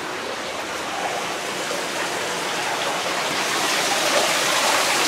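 Water pours down a water wall inside a haunted maze tent, a steady broadband rush like a small waterfall, close and continuous with no talk.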